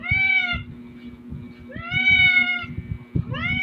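Cat meowing three times, drawn-out plaintive cries spaced about a second apart, close by over a low background hum and faint rustling.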